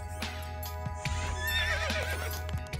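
A horse neighs and whinnies in a high, wavering call, with a few hoof clip-clops around it, heard fairly near and moderately quiet.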